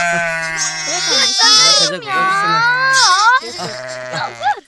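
Sheep being held by hand bleat repeatedly up close in northern Cyprus, wavering nasal cries overlapping one another, with people talking nearby.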